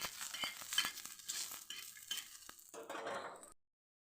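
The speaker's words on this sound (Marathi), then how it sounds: "त्या पाकळ्या टाकून घेते मी आणि थोडीशी जिरे टाकून घेते याला छान आमचे भाजून घेते" Chillies, garlic cloves and cumin roast in hot oil with a steady crackling sizzle, broken by spoon scrapes and stirring clinks against the pan, before cutting off to silence near the end.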